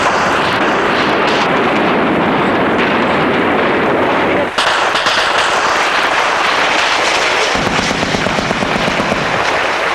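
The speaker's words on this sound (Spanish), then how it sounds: "Había mucho disparo." Dense, continuous gunfire and booming blasts during a ground assault, loud and overlapping with no pauses, like heavy shooting close by.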